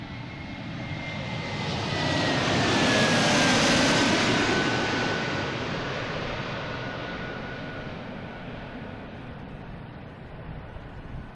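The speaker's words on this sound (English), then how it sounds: "This is flight number 499 at A321neo." An Airbus A321neo jet at Boston Logan International Airport roars past in a broad, loud rush that swells to a peak and slowly fades, with a thin whining tone drifting down through the noise.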